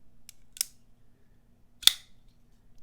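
A QSP Ripley folding knife blade snaps open on bearings: a couple of light clicks, then a single sharp, crisp metallic flick, close and clean against near silence.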